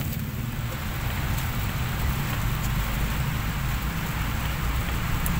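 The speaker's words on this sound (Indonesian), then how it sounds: "Alhamdulillah nggak sia-sia saya menanti sampai turun hujan." Steady rain falling on a rice paddy, a dense continuous hiss of drops that stays loud and even from start to finish, with no voices.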